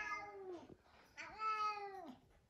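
A house cat, brought along during a move out of an old house, gives two long, close meows separated by a short pause, the second one louder and more drawn out, with no talking over them.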